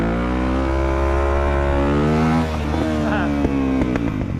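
Motorcycle engine revving hard and steady as the front wheel lifts into a wheelie, loud and close throughout with a rising pitch near the end.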